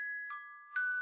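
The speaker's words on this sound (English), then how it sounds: "my phone is ringing." A mobile phone rings nearby with a clean electronic chime: a steady tone steps up through two short, bright bursts, fairly faint and alone with no talk.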